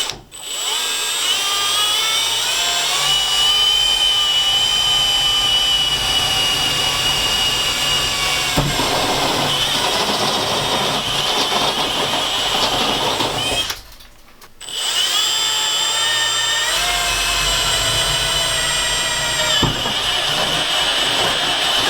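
A power drill cuts pilot holes through the metal roof of a high-roof, long-wheelbase Ford Transit van. Two long, loud, close whining bursts are split by a brief pause, with no speech.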